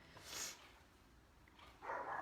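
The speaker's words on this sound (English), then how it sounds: "Just the barking." A dog barks in the background at low level, with two short bursts, one near the start and one at the end, over a quiet room.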